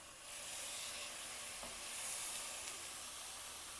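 Chicken breast pieces sizzle steadily in a pan as they are fried and stirred, a close, continuous hiss with light scraping and no talking.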